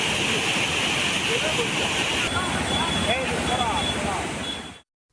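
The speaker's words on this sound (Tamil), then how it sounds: "பெய்த கனமழையால் பெரியார் அருவியில் காட்டாற்று வெள்ளம் ஏற்பட்டது" Flash-flood water pours over Periyar waterfall in the Kalvarayan hills after heavy rain, a loud, dense, continuous roar that never lets up before cutting off abruptly.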